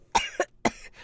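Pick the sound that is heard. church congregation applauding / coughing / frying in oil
coughing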